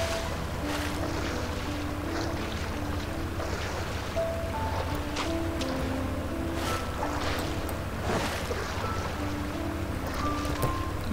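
Rushing water from a waterfall in the video game Genshin Impact, a steady broadband roar running through the whole stretch, mixed with soft game music tones and no talking.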